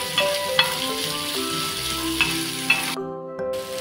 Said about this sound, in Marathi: आता याच्यामध्ये आपल्याला 5 मिनिटं आपल्याला जरा हे सॉफ्ट होईपर्यंत आपल्याला तळून घ्यायचं.